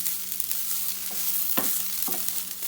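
Peppercorns and whole spices roasting in a dry pan for breadfruit masala curry, a soft continuous sizzle with a few quick stirring scrapes, close and without talk.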